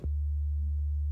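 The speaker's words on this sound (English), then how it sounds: "we're gonna add a dedicated sub bass" A synthesized dedicated sub bass plays one deep, pure sine-like tone, switched on abruptly and held steady and loud for about a second, alone with no other sounds.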